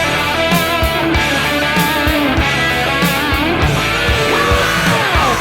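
An electric guitar plays a phrase from the solo, with fast, bending lead notes over a dense, loud, driving backing with steady drum hits.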